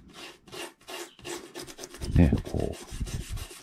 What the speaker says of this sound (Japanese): アルカリ電解水をかけて、こうね、歯ブラシで磨いていきますか